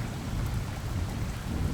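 Steady rain pours with a low rumble of thunder underneath, a dense continuous wash of drops with no voices, even and moderately loud throughout.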